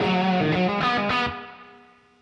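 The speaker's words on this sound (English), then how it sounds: "it is for the spring reverb, because even with the driven amp" An electric guitar through a driven amp rings out a chord with spring reverb from a NUX Verb Core Deluxe pedal, the tone sustaining briefly before a reverberant tail fades away.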